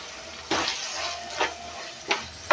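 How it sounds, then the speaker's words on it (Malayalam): Water and ground spice paste poured into a pan for a dried-fish theeyal, a few short liquid splashes and pours with quiet pauses between them, close and fairly loud, no talking. "ഇച്ചിരി വെള്ളം ഒഴിച്ച് കലക്കി ഒഴിച്ചു കൊടുക്കാം"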